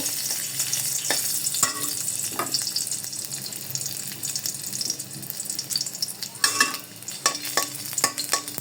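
Garlic cloves fry in oil for a malai chicken dish, giving a soft, steady sizzle close by, broken by several sharp spoon scrapes and stirring clicks, with no voices.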